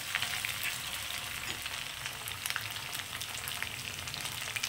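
Aloe vera is stirred in hot oil for a hair remedy, making a dense, crackling sizzle with bursts of popping spatter, close and constant with no voices.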